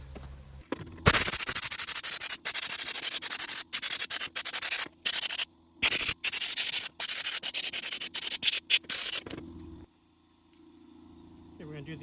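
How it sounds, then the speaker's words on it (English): Baking soda blaster gun blasting small parts at home, a loud close hiss in repeated bursts of varying length separated by brief pauses, over a low steady compressor hum that carries on after the spraying stops. "home sandblasting unit to do some soda blasting on some small parts"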